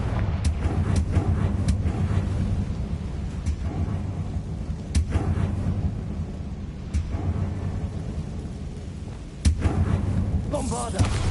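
Fire spell blast in the Hogwarts Legacy video game: a few sharp booming impacts over a dense rumbling game soundscape, with a louder burst near the end.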